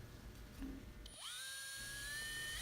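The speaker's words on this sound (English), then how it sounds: "the next step becomes drilling a hole in the bottom edge of that fascia" A power drill bores a hole through the bottom edge of ribbed aluminum fascia high up on a cabin roof, starting after a quiet moment with a rising whine that settles into a steady, loud high-pitched drone.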